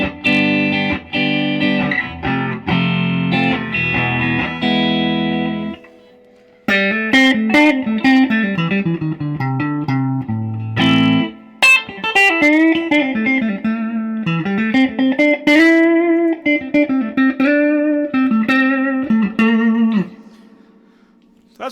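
An electric guitar plays through channel 1 of a hand-wired Fender Deluxe Reverb amp set fairly bright, in loud, sustained chords and single-note melodic lines with a brief pause near the start, alone without talk.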